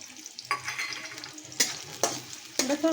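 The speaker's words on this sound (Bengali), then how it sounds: "আমি মিষ্টি কুমড়া বিচিটা তাতে দিয়ে দিব" Pumpkin seeds tipped into a pan of frying sweet pumpkin, stirred with sharp scrapes and bursts of sizzle at a steady rhythm, close by and fairly quiet, no talking.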